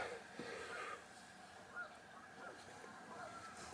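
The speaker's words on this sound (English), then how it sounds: "Can you hear all the geese out there?" Distant geese honk faintly and repeatedly against a low background hum at a campsite in Iowa, their calls scattered and soft, with no talking.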